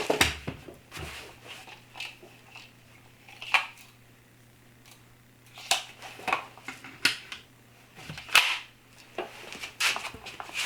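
A nail gun driving 2-inch brad nails into wood planter boards, giving a series of sharp, irregularly spaced snapping shots close by over a faint steady hum, with no talking.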